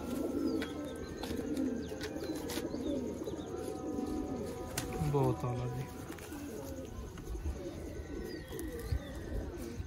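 Soft Sialkoti pigeon cooing in a short low burst amid dense outdoor bird chatter, with a voice speaking briefly over the background.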